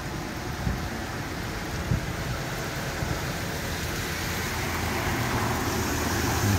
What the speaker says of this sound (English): So, one big storm coming.